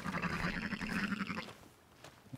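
Sheep bleating in the open-world western game Red Dead Redemption 2, a couple of close, wavering bleats filling the first second and a half, then quieter background ambience.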